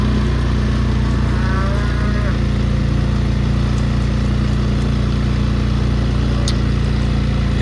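Cattle mooing during a fall cattle drive of 44 cows along a fence line on a farm, with a few drawn-out lowing calls rising over constant loud wind or engine rumble.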